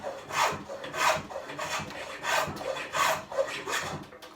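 A wooden plough plane is pushed by hand along a board held in a vise, giving repeated rasping strokes in an even rhythm of about two per second, close and clear.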